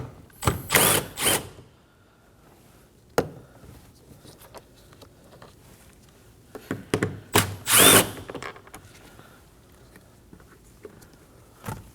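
A power tool spins out 10mm bolts from the door handle of a Nissan Armada, several loud bursts of whirring separated by quiet gaps and small clicks.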